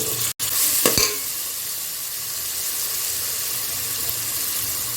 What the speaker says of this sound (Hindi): अब डालेंगे इसके अंदर अदरक लहसुन का पेस्ट 1 चम्मच, इसको अच्छे से भूनेंगे।